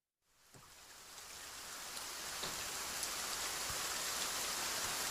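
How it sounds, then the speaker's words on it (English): Heavy rain fades in and builds into a steady, dense hiss of downpour on surfaces, with occasional louder drops standing out, loud and continuous with no voices. "See, it's really raining cats and dogs today."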